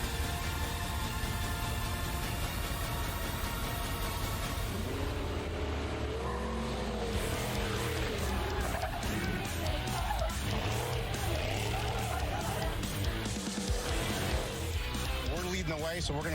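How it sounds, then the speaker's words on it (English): Trophy truck engine roaring at the start of the Baja 1000 off-road race, loud and continuous, under steady commentary. "Leading the charge for the four-wheeled racers off the line is Ryan Arciero in Trophy Truck 32."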